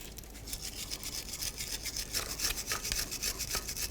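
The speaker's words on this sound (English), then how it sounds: "Now we need to continue cleaning the rest of the bracket itself." A brush scrubs a brake caliper bracket from a 2006-12 Ford Fusion's front brakes, making a close, continuous raspy back-and-forth scratching with quick repeated strokes and no talking.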